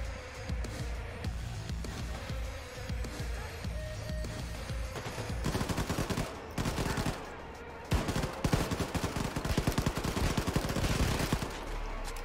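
Gunfire in the game Wolfenstein 2, with fast automatic bursts and single sharp shots that build in density toward the end, loud and close, mostly without talk.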